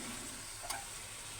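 A dish cooking in a pan on low flame, a soft continuous sizzle with one brief scrape or clink of the spoon as it is stirred, otherwise quiet and steady.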